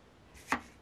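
A single sharp cut through card during die-cut card making, one brief crisp snip or slice near and fairly quiet against a hushed room.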